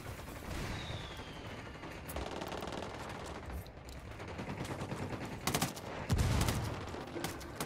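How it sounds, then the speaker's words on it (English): Rapid automatic gunfire in the tactical shooter Ghost Recon Wildlands, dense bursts of rattling shots over a noisy battlefield bed, growing heavier toward the end with a louder blast near the close. "Opening fire on these fuckers."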